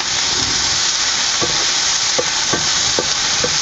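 Chopped onion and green chili sizzle steadily in hot oil for a tempering, a dense continuous frying hiss broken by a few soft, evenly spaced stirring scrapes from a utensil, with no voices.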